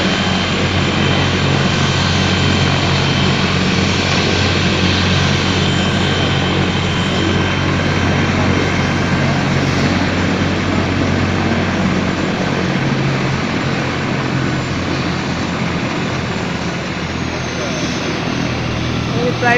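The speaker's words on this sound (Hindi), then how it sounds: "ये प्राइवेट कंपनी का हेलीकॉप्टर है" A private company helicopter runs steadily close by, its engine and rotor drone loud and continuous throughout, with voices talking faintly underneath.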